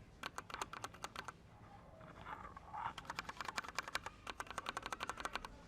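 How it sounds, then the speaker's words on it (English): Quiet mechanical keyboard switches clack softly in two quick bursts of typing separated by a short pause, close to the microphone in a quiet room. "that is how they sound when you type, much quieter."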